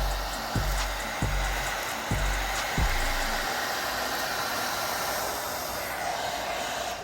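A loud, steady blowing whoosh of a heat gun running continuously on high, aimed at Air Jordan 12 sneakers, with a few low thumps near the start.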